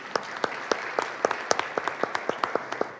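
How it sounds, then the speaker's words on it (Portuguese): Applause from an audience at a public talk, a steady patter of many hands with sharper individual claps standing out, fairly close and even throughout. "Uma salva de palmas para eles."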